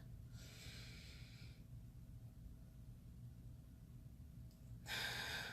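During a stress-relief breathing exercise, a person takes two deep, airy breaths close to the microphone, one early and one at the end, with quiet room hush in between.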